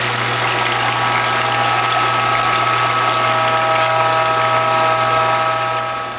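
A juice press squeezes kale, sorrel, carrot and beet, giving a loud, continuous close-up mechanical drone with a steady low hum and rapid ratcheting texture, running unbroken throughout without voices.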